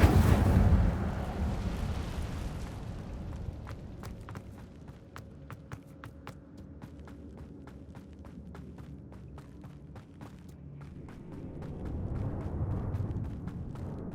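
A fire spell cast in the video game Hogwarts Legacy inside a cave: a loud whooshing burst of flame at the start, then sustained crackling with sharp snaps and pops, swelling again near the end.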